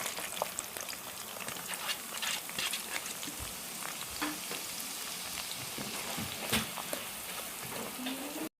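150 grams of chopped onions browning in oil in a kadhai, a busy, continuous sizzle and crackle with occasional stirring scrapes, fairly close.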